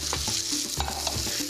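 Food frying in oil in a hot pan while a spatula stirs it, with a steady sizzle and repeated scraping strokes close up, no voices.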